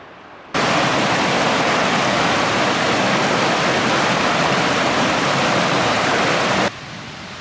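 A river in the Idaho wilderness rushes in a loud, steady broadband roar that stays constant and close for several seconds, with no voices.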